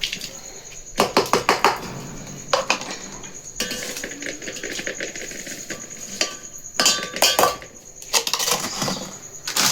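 A spoon stirs and clinks against a bowl, mixing spices with ginger-garlic paste, coriander and fenugreek for bhajiya batter. Clattering bursts come in irregular clusters with quieter scraping between them, close by and with no voices.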